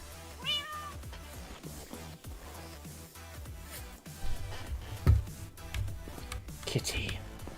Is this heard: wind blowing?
no